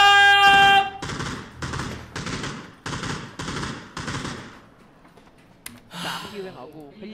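Bursts of automatic gunfire from the battle royale game PUBG, several loud rapid volleys in a row followed by a single sharp shot and scattered quieter shots, with a voice heard briefly.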